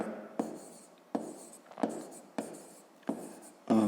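Pen writing numbers on paper during a fifth-grade maths exercise, short scratchy strokes in quick bursts about every half second to second, close and clear with quiet gaps between.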